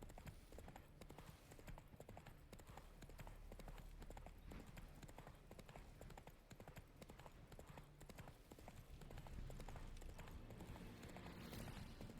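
Roach the horse gallops in The Witcher 3, with a rapid, steady clip-clop of hooves running continuously at a quiet level alongside faint game ambience.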